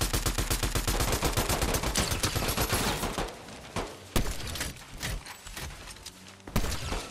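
Dense bursts of automatic gunfire from a Fortnite firefight rattle nonstop for about three seconds, then break into sparser single shots and sharp cracks, loud and close.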